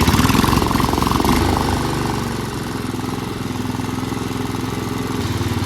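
A Murray lawn mower's small engine runs steadily at close range, a loud continuous chug that eases slightly after the first couple of seconds and then holds a constant idle-like drone.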